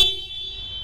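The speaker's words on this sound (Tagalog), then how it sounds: "check natin kung malakas ba yung buga ng kanyang horn." A single bright electronic horn toot from a Yamaha R15M motorcycle, sharp at onset then fading slightly over under a second, close and fairly loud.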